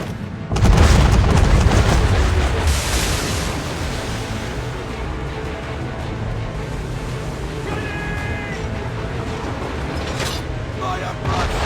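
Warship cannons fire a broadside in Assassin's Creed 3, a heavy booming salvo at the start followed by rolling rumble and sea wash, with shouted crew voices and later scattered blasts.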